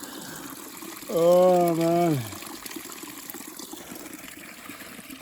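Cold water flows in a steady, continuous rush at a rest stop on a long hike, with a man briefly exclaiming over it near the start.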